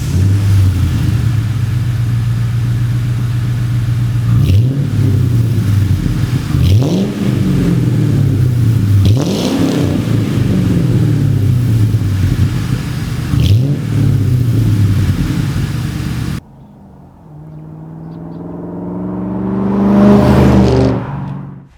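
A Ford Mustang fitted with a new MBRP catback exhaust revs hard in four or five sharp throttle blips over a deep idling rumble, then finishes with one long rising rev close by.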